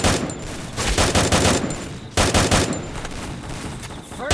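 Rapid, loud gunfire from a mobile shooter video game in a four-versus-four match, dense overlapping shot bursts with a brief break near the middle, then continuing without speech.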